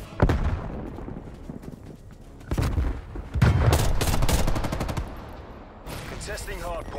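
Video game gunfire and explosions from a napalm strike in Call of Duty: Black Ops Cold War, with bursts of rapid shots and booming blasts coming in waves, loud and dense, with some voices mixed underneath.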